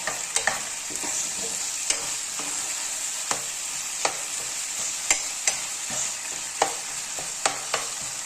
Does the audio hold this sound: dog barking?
no